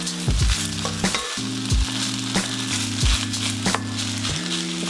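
Egg and garlic fried rice sizzles in a pan with a steady crackling fry, interrupted by repeated scraping and stirring knocks from a utensil at close range, with no voices.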